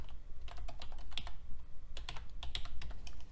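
Steady typing on a computer keyboard while writing a simple bash script, a run of crisp close key clicks over a constant low hum in the room.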